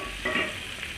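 Tadka tempering poured into cooked daal gives a short, loud sizzling burst that quickly settles into a steady hiss of hot oil, heard up close with no talking.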